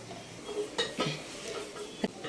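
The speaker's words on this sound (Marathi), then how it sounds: "छान असं मिक्स करून घेणार आहोत" A spoon stirring dal in a metal pot gives soft scraping swishes and several distinct clinks against the pot's sides, close up and at an uneven pace.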